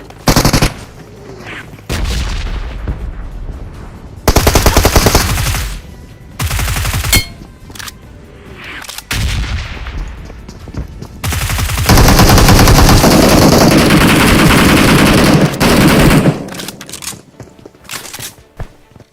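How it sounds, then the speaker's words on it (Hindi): Rapid video game gunfire during a firefight near a school apartment building, with loud bursts of automatic fire and single shots cutting in and out, dense and close, separated by brief quieter gaps. "तभी स्कूल अपार्टमेंट से गोलियां चलने की आवाज आती है"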